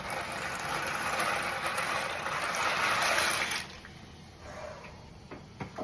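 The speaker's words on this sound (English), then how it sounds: "So now our water is boiling, and we're going to slowly pour the noodles in." Dry mostaccioli noodles poured slowly into a pot of boiling water on a kitchen stove, a steady loud rushing bubble that cuts off abruptly partway, leaving a quieter simmer with a few small clinks.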